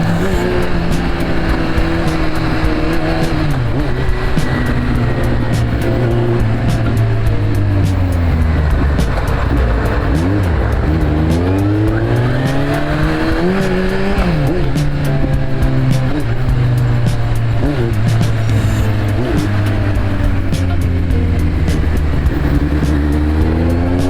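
Heavy road traffic in Malolos makes a loud, continuous engine drone that rises and falls in pitch as vehicles accelerate and slow, with a rough, rushing road noise throughout.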